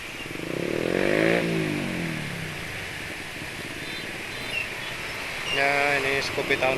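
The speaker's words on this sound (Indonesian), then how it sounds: "Ya ini Scoopy tahun lebih lama." A small Honda Scoopy motor scooter engine, an older model year, revs up and settles into a steady idle, with a faint voice and clattering near the end.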